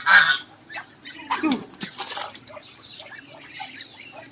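A goose gives a loud honk at the start, followed by a few quieter squawks and splashing in the background amid general farmyard noise from ducks, geese and chickens.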